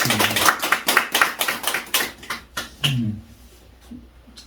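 A church congregation claps to welcome a returning member at a Sunday service, a burst of fairly close, fast, uneven applause that thins out and fades over a few seconds.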